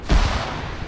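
A single heavy white phosphorus artillery impact in a military video game, a deep, close boom that hits sharply and then fades into a rumbling tail within a second.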